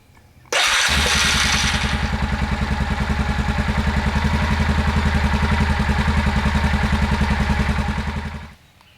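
Yamaha 400 4x4 ATV engine from a 2000 model cranks and catches, then settles into a steady, close, rhythmic idle for several seconds before cutting off.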